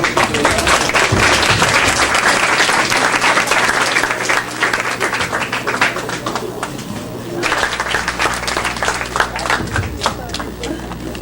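Audience applause at a regional poetry gathering, sustained and fairly loud across the whole span, with a dense rattle of clapping that eases slightly midway and carries on to the end.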